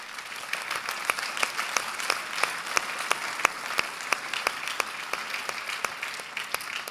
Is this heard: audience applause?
yes